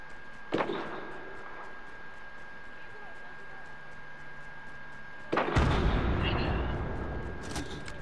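Two sharp sniper rifle shots in a Fortnite match, the first a single crack and the second a louder report with a long noisy tail, both fairly close and standing out against quiet game ambience.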